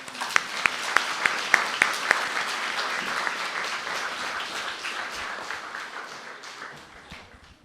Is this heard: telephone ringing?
no